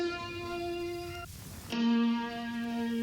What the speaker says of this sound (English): Then I add this little guitar plug one shot.